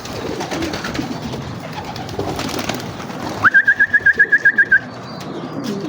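A single pigeon sounds off with a quick run of about ten evenly spaced coos, clear and fairly close, over a steady murmur of background noise.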